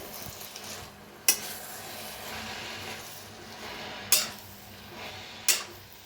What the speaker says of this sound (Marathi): आता भाजी मिक्स करून घेऊया